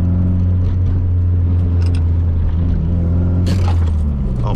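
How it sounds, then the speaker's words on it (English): A drift car with a welded differential attempts an e-brake turn, its engine a deep continuous rumble close by, broken by two short hissing bursts of tire or gravel noise. "I'm gonna try to go in and like get an e-brake turn."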